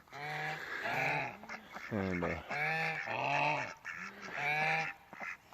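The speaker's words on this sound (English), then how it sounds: "I've had the geese since they was babies" Geese honking beside a pond, loud and close, with repeated harmonic calls coming in bursts over the whole stretch, mixed with a voice nearby.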